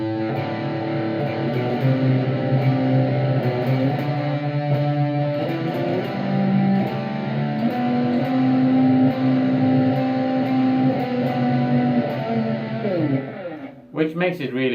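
An electric guitar plays a melody against a sustained open-string drone, steady and fairly loud, with a brief pause and restart near the end.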